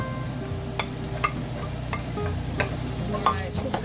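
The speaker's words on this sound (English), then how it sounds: "Stir fry garlic until it smells good" Garlic stir-fries in a hot pan for Lao-style spaghetti, with a steady sizzle broken by several sharp scrapes and knocks of a utensil against the pan. No voices.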